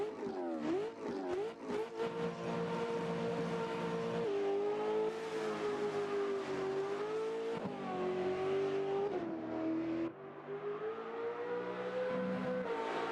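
A V8 rally car in a Richard Burns Rally replay, its engine droning and revving continuously with rising and falling pitch through gear changes, loud and close, with no talk.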